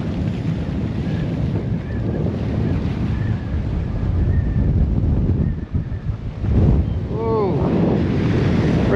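Strong gale wind roars at sea off the Australian coast, buffeting the microphone with continuous loud rushing noise and waves around a boat, while a man exclaims briefly.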